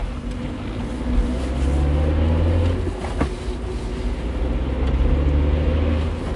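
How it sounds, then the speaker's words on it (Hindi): A car engine rumbles low and steady as the car speeds away, a continuous motor drone used as a sound effect in a Hindi horror story, with no voices over it. "प्रिया की बात सुनकर राघव ने गाड़ी स्टार्ट की और गाड़ी फुल स्पीड में भगाने लगा।"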